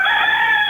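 Rooster crowing in a radio advertisement, a single loud, close cock-a-doodle-doo with a bright, strained tone, heard alone without speech.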